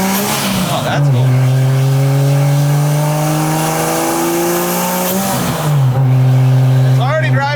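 A turbocharged 2JZ-swapped Charger driving, engine droning loud and close with rising and falling pitch through gear changes, a drop in revs midway and a rev climb near the end.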